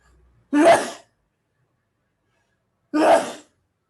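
Two sharp sneezes, each a quick burst about half a second long, roughly two and a half seconds apart in a quiet room, with silence between and no talking.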